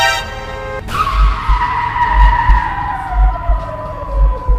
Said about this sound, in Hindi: उसने गाड़ी ठोकी मेरे गाड़ी में और गेम खत्म हो गया फिर से